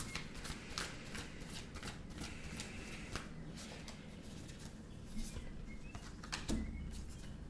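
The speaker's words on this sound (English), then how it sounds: "So we're just going to pull the cards and just kind of go as we go." Tarot cards are shuffled close by in a quiet room. Soft, rapid riffling and slapping sounds repeat in quick bursts, and no one speaks.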